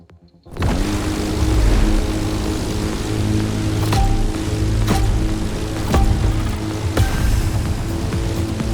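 A propeller stunt plane drones loudly from the racing game The Crew Motorfest, starting abruptly and holding a steady engine hum with a few sharp clicks and ticks over it.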